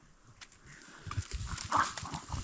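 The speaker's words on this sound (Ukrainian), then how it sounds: "От собаки носяться." Dogs running about in a forest during a mushroom-picking outing, their paws crunching and thudding through leaf litter nearby in a quick, uneven patter that grows louder toward the end, with no voices.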